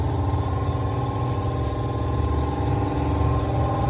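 A 40 horsepower outboard boat engine, freshly serviced with its fuel injectors cleaned, runs with a steady, loud low rumble and even mechanical chatter, unbroken for the whole stretch.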